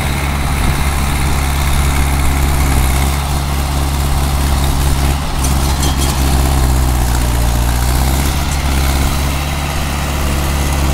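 A Mahindra 475 tractor with a tiller attached and both levers down runs steadily, a loud, continuous low diesel drone close by with no talking.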